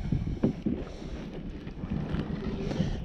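Gusty wind buffeting a canoe out on a lake, a steady low rumbling roar with occasional stronger gusts and faint water movement, continuous throughout with no talking.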